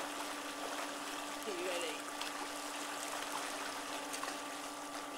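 A swimming pool current jet turned up, a steady rushing churn of water running continuously, with voices talking over it.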